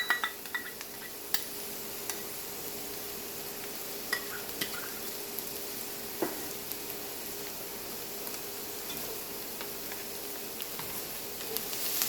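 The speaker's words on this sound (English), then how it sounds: "You're just going to cook the garlic until it becomes fragrant." Garlic sizzles in a hot pan with a steady, close frying hiss, broken by occasional light clinks of a utensil stirring, with no talking.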